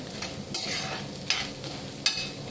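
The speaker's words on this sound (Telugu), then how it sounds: "కొంచెం ఎండుమిర్చి, జీలకర్ర తొందరగా ఫ్రై అవుతాయి కదా" Dried red chillies and cumin seeds crackle and sizzle in hot oil in a pan, giving a steady close fry with soft stirring scrapes that recur at intervals.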